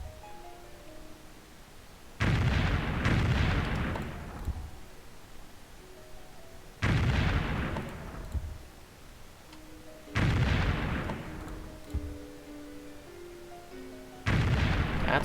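Heavy bombing and artillery blasts from a World War II game of Civilization III, arriving as four loud, booming explosions spaced several seconds apart, each rumbling and fading out over a quiet backdrop of soft game music.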